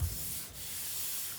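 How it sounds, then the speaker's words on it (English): Sandpaper rubs across a rough wooden clipboard in a steady, close abrasive hiss that lasts throughout, with a short pause midway and no talking. "your board is too rough, you can sand it"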